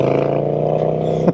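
Triumph Speed Twin 1200 motorcycle fitted with an Italian Zard exhaust pipe, giving a short, steady, deep rumbling engine note held briefly at close range, with a slight rise at the end.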